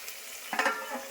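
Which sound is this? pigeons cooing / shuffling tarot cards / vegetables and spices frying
vegetables and spices frying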